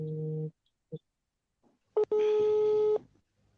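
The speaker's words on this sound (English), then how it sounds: "I think, Linda, your phone is ringing." A telephone tone sounds during a call, short steady buzzing bursts separated by gaps and then a longer sustained tone, clear and fairly close with little else around it.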